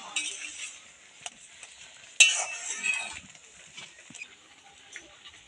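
Tomato being stirred and mashed into boiling dal in a pot, a soft, continuous wet scraping with a light background hiss and a few small utensil knocks, moderately close and without talk.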